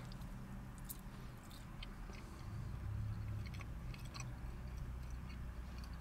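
Close, moist chewing of a tender bite of steak from a spicy Subway sub, steady mouth sounds with soft squishes and occasional sharper clicks, no talking.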